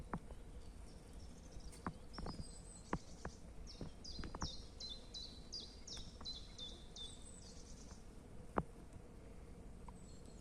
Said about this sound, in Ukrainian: Пташки співають, не знаю, чи чутно це на відео.